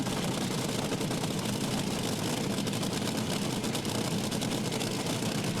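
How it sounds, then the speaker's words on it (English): Top fuel drag racing car at Willowbank Raceway during a New Year Thunder meet, engine refired and running, a dense steady broadband roar held at constant loudness throughout, with no talk. "After a little time, they've been able to refire Wayne Newby in the Santos Cranes, Titan Cranes, Atlantic Oils top fuel car"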